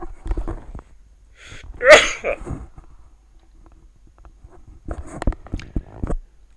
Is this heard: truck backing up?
no